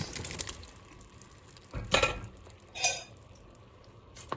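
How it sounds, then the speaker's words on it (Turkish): Kumquat jam is stirred in a pot. A spoon makes a few soft scrapes and clinks against the metal over a faint background, with no talking. "Ve ara ara karıştırıyoruz."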